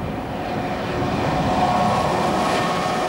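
A Transrapid Maglev train runs along its elevated guideway in Emsland, giving a steady, loud broadband rushing roar that swells slightly and holds without any rail clatter.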